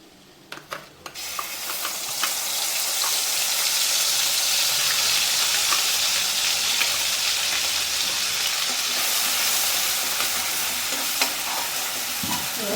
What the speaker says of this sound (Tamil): இதில் பட்டை கிராம்பு ஏலக்கெல்லாம் வெடிச்சிருச்சு